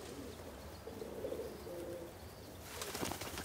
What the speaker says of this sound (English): A flock of pigeons,